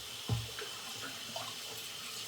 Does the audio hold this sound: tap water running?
yes